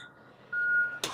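A truck's reversing alarm gives a single sustained electronic beep, fairly loud and close, cut off by a sharp broadband noise burst at the end.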